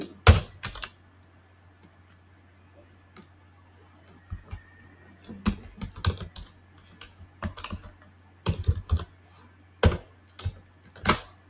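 Python code is typed on a computer keyboard in scattered bursts of close, crisp key clicks separated by quiet pauses, with no one speaking.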